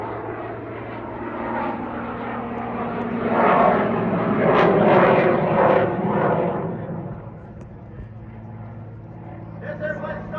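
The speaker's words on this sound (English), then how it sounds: "This is a fabric and wood airplane, never designed to do what it's doing today." A 1929 fabric and wood vintage airplane flies overhead at an airshow in Oshkosh, Wisconsin, its propeller engine droning loudly and swelling to a peak midway before easing off, steady and continuous with no other sound over it.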